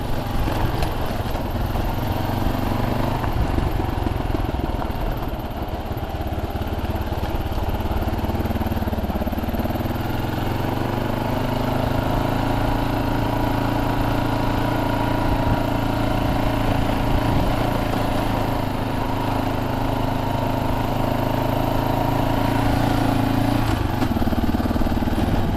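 Kawasaki KLR motorcycle engine running on a trail in Arizona, a continuous mid-pitched rumble at close range, with the revs rising and falling slightly and no break throughout.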